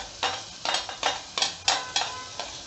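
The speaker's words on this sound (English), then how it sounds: "Now at this moment I'll be adding onion, finely chopped onion." Finely chopped onion goes into a pan of hot oil with garlic already turning brown, giving a run of about seven short sizzling scrapes and stirs at a steady pace, close and fairly loud, with no talking.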